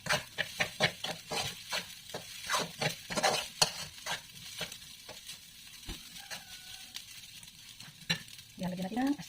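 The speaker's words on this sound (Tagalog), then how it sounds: "So ayan guys, haluin na natin, tapos lagyan natin ng asin." Food is stirred in a frying pan, with a utensil scraping and clattering in quick, irregular strokes over a faint sizzle. The sound is close and moderately quiet, and the stirring pauses briefly near the end.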